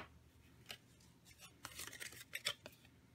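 Scissors snip through ribbon at an angle in a few close, quiet crisp cuts and rustles near the end, with no talking.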